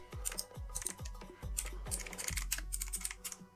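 Lowercase code being typed on a computer keyboard while entering a JavaScript console command, a steady run of close, crisp key clicks with heavier thumps, no talking.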